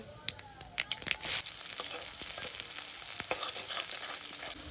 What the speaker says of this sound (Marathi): लसूण मी चांगली परतून घेते